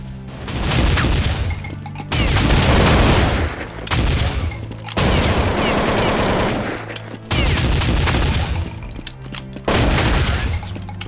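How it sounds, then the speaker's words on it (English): Shotgun gunfire in Counter-Strike 1.6, loud dense bursts of blasts coming in several clusters separated by brief gaps, with a narrator talking over the shooting. "he made an ace with a shotgun, showing that even rare weapons can be effective in the hands of a skilled player"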